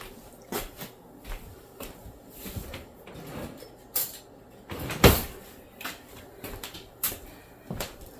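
Clean spoon taken from a kitchen drawer: thuds and knocks of the drawer sliding, utensils rattling, one louder bang at the close, all near and moderately loud, with no speech.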